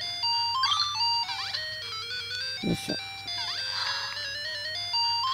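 A handheld gaming gadget plays retro chiptune-style electronic beeps and melodic tones, old Game Boy-like, in a continuous bright sequence with a brief low thump midway; a person talks briefly over it.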